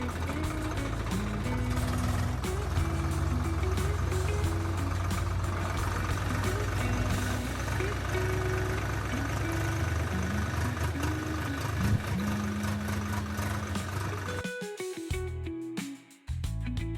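A tractor loaded with wedding-canopy gear drives home through village surroundings, its engine holding a steady, loud low drone for about fourteen seconds before the sound abruptly thins out and drops away.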